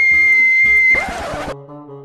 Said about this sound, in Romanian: Un fluier.